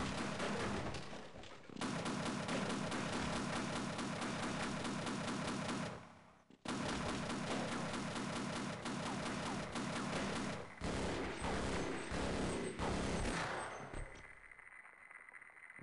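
Rapid automatic gunfire in the video game Half-Life, long sustained bursts of shots in quick rhythm, broken by a short pause and tapering off at the end, loud and without talk.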